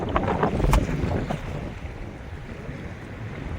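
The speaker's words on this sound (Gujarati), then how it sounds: "આજે આખો દી પવન હતો એટલે મોજો થઈ ગયો છે." Strong wind buffets the air around a fishing boat at sea on a windy day, with a rumbling wash of waves and gusty noise, close and continuous.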